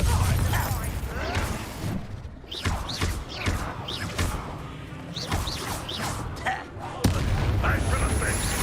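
Confringo fire spell blasts in Hogwarts Legacy combat, a string of booming impacts and crackling bursts over dense battle noise, with a voice calling out spells throughout.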